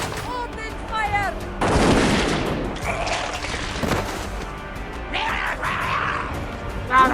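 Rapid bursts of video game gunfire and explosive booms crowd together loudly, with a few shouted voices breaking through in between.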